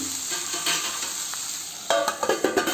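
Sliced bitter gourd fries in a pan on low flame, a steady close sizzle that runs throughout, then a series of sharp stirring scrapes in a quick rhythm toward the end.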